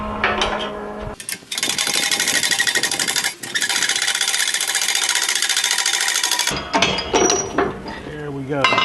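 A shaft is pressed through a bearing on an Oliver 80 tablesaw during teardown, giving loud, close grinding and ratcheting bursts of machinery with short pauses and brief clanks between them.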